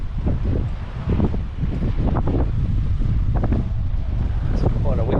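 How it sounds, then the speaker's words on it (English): Strong wind buffets the microphone on a blustery day near the sea at Geraldton, a steady low roar with gusty rumbling throughout, alongside faint speech. "It's quite a windy day today"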